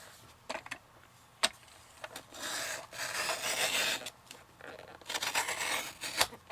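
The edges of a folded paper signature are trimmed for a handmade journal: soft, close rasping and scraping strokes come in irregular bursts, quiet overall.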